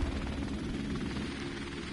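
The player's helicopter in the video game Modern Warfare Remastered churns as a steady low rotor rumble, continuous and fairly close for the whole stretch, with no talk over it.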